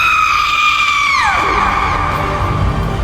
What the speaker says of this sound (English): Her scream of despair pierced the air.